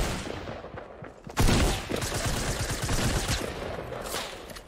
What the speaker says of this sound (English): where are these guys shooting us from?